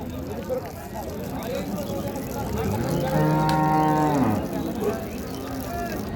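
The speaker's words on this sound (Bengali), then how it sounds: "4 দাঁত বয়সের গাভী।" A Holstein Friesian cow at a busy cattle market gives one long, loud moo in the middle, rising above the chatter of traders and background crowd noise.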